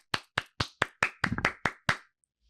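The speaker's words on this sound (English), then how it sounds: "Let's get a round of applause for that." Hand claps in a podcast studio: about eight sharp, close claps in an uneven rhythm, a couple blurring into quick flurries, then silence.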